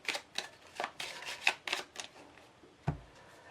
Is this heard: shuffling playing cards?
yes